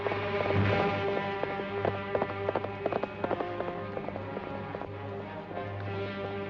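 Horse hooves clip-clopping steadily on a trail while a herd of cattle is driven along, the horse carrying a loose shoe; moderately close rhythmic hoofbeats over a continuous low rumble.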